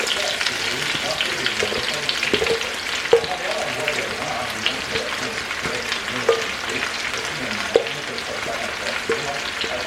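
Onions frying in a pan for a Senegalese sauce, a steady broadband sizzle with scattered crackles and occasional stirring clinks throughout, loud and close.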